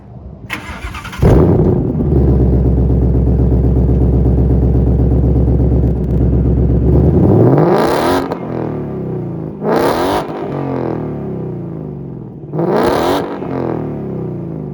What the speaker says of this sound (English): This car sounds really beefy with factory exhaust on it.